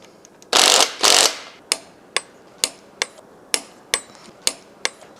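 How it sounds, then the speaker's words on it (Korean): Hand tools tighten the timing chain on a Range Rover Vogue engine: two brief harsh bursts, then a steady run of sharp metallic clicks about half a second apart, close and loud. "레인지로버를 지금 이제 타이밍을 정렬해서 조이고 있어요"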